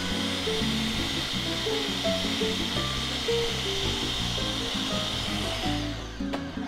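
A blender whirs through Bloody Mary tomato mix, one steady loud hiss-and-grind lasting several seconds before it cuts off near the end.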